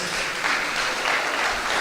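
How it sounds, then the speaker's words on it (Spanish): Audience applause for the speakers at an international seminar held in a church, a steady, dense wash of clapping from a full room that holds level throughout, with no voices over it. "Una vez más, fuertes los aplausos"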